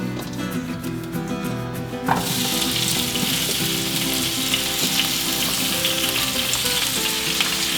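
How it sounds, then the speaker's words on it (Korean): Food stir-fries in canola oil in a pan, a loud steady sizzle that bursts up after a quieter start, with scraping and stirring noises under it and no talking. "볶는 것도 이렇게 그냥 하는 게 아니라 찌듯이 볶아보도록 하겠습니다."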